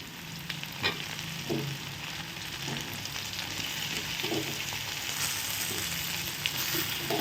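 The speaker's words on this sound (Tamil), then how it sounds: "நம்ம வெங்காயத்தை கிளறி கிளறி விடுவோம்" Onions fry in a pan for prawn thokku while being stirred, a steady close sizzle punctuated by repeated soft scraping knocks of the spoon.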